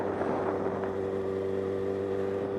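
A Suzuki Gixxer motorcycle engine drones steadily during a wheelie on a highway ride, a continuous tonal engine note with rushing wind noise behind it.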